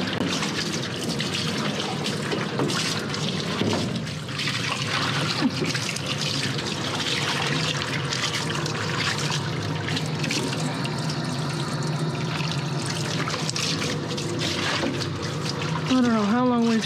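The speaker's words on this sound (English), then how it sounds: "now what I'm gonna do is rinse this stuff off" Running water rinses a tub after a difficult undercoat removal job, a steady, close splashing flow lasting throughout with little change.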